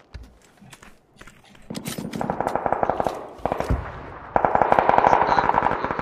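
Rapid automatic gunfire rattles in a shooter video game, starting with sparse distant shots, then building into loud, dense bursts of fast repeated cracks.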